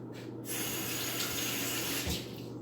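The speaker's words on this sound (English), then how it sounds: "I'm gonna rinse my hand." Tap water runs steadily into a kitchen sink as a hand is rinsed after zesting lemons, a close, continuous splashing flow that rises and falls slightly for a couple of seconds before cutting off.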